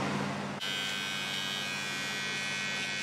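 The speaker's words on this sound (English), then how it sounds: "what I'm going to do is just trim these little areas here, because I get a lot of rogue hairs just below my lip" A Panasonic ER-GD60 beard trimmer runs close up with no attachment fitted, tidying stray hairs just below the lip. A steady, loud electric buzz holds throughout, with a brief dip near the start.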